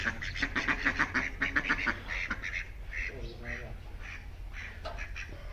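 Ducks quack repeatedly at a pet house, a rapid burst of loud nasal calls early on giving way to scattered, softer quacks, with a person talking over the flock throughout.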